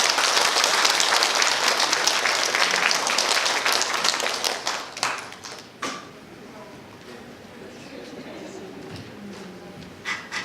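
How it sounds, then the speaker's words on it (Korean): An audience at a museum humanities lecture applauds to welcome a museum director, dense loud clapping for about five seconds that thins into scattered claps and fades, followed by quieter room noise with faint sounds of movement. "유병화 관장님을 큰 박수로 맞아주시기 바랍니다"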